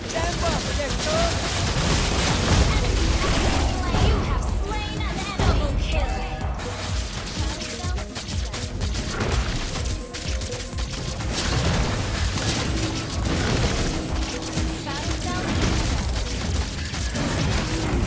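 A video-game character fires away amid a chaotic battle, with continuous bursts of shots, crashes and booms layered densely over a background of game noise and music, loud and unbroken.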